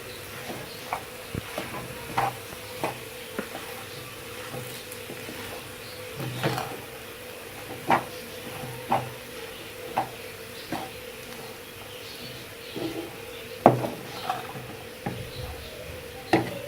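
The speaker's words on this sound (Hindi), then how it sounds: "सारे मसाले को अच्छी तरह से मिक्स कर लें।" Spices stir through a samosa potato filling in a pan, a low soft background sizzle punctuated by regular light taps and scrapes of a spoon against the pan.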